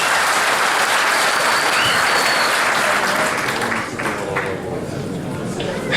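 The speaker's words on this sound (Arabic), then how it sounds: "بدنا تصفيق أحمد من هيك من الجميع" Sustained applause from an audience at an honoring ceremony in Salfit, Bidya, a dense steady clapping that stays loud throughout and eases slightly toward the end.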